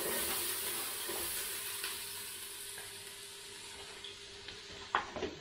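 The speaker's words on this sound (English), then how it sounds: "I also preheated my Ninja Foodi with a little bit of oil. So we're gonna add some onions" Onions fry in hot oil inside a Ninja Foodi, a steady close sizzle that slowly softens, with a few faint stirring clinks near the end.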